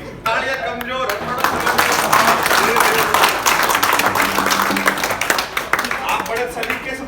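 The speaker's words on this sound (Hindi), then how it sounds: "तालियां कमजोर है" An audience claps at a Holi gathering comedy show, with sharp hand claps swelling into steady, loud applause that fills the room throughout.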